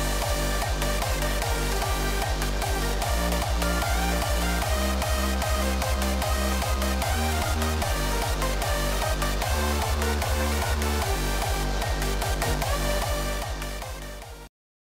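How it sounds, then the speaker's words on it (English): Hardstyle track climax layered with sweeps, crashes and exhaust effects: a loud, dense, relentless pounding kick rhythm with distorted synths and noise sweeps sustained for about fourteen seconds before cutting off abruptly. "And I also added some sweeps and some crashes, some exhaust to add some more impact to the climax."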